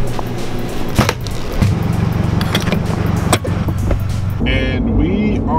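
A car pulls away and drives along a road, with tire and road noise and a steady engine drone, plus a few sharp knocks and a voice toward the end.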